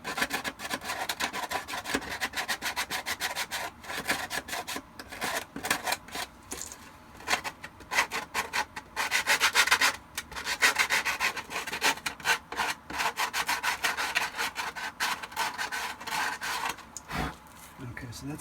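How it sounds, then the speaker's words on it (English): Sandpaper is rubbed back and forth to smooth a ridge on plastic Shadow Trooper stormtrooper armor, giving close, rhythmic scratchy strokes in bursts with brief pauses. "Going from the back a little bit with some sandpaper and just smooth that out a little bit."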